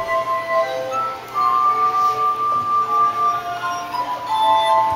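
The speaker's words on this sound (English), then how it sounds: "glass harp." Glass harp of upright water-filled wine glasses rubbed along the rims, several clear sustained ringing pitches that overlap and swell, loud and close with no voices.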